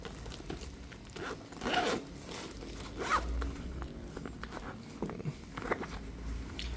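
Zipper on a water-resistant Honda CB150X motorcycle tank bag being pulled open or shut, heard as several close, scratchy zip strokes in uneven bursts with no talking.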